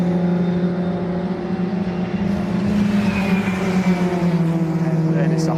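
750 Motor Club race cars on track, engines droning and whining as they pass through a sequence of bends, steady and fairly loud throughout with pitch shifting as the cars go by.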